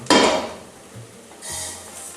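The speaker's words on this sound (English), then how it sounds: "you pour it in with the onions still frying" A sharp clattering pour of rice hits a hot pan of frying onions, followed by a softer sizzle and a light scrape a moment later.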